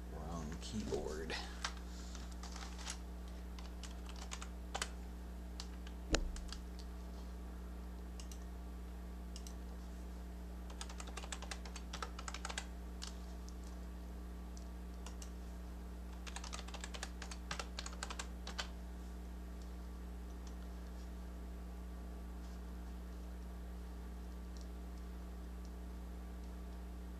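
Faint clusters of keyboard typing come in short runs over a steady low electrical hum, with long quiet stretches between.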